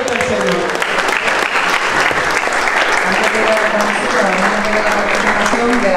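Strong, loud applause from a church congregation during a fasting and prayer service, dense sustained clapping with voices and shouts mixed in throughout.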